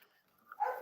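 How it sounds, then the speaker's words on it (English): A dog barks once or twice in a short burst near the end, loud and close after a quiet indoor stretch, with no talk over it. "Don't mind the dog. Oh, he's my dog that just he saw something."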